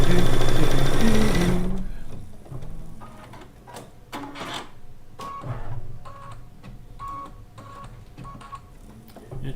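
An embroidery sewing machine stitches a flower petal outline on a quilt block, opening with a loud mechanical burst, then settling into a quieter, steady run of rapid stitching with light clicks and taps.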